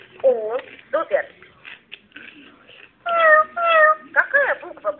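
A recorded cat meowing from a children's educational computer, with a few short meows and a pair of longer, tonal mews in sequence, close and clear between bits of a child's and adult's speech.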